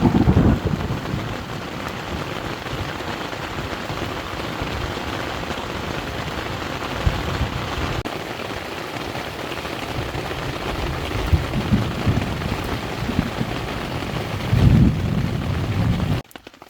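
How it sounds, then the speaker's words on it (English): Thunderstorm at a lakeside campsite in Algonquin Park, with steady rain and gusting wind filling the scene and low rumbles of thunder rising now and then, loudest near the end. "Huge storm just blew in right now."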